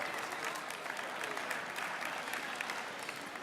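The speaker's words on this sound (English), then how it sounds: "She deserves a round of applause." Guests at an international trade gala auction applaud a bidder, a brief, moderately quiet, steady wash of clapping from a room full of people with faint murmurs beneath.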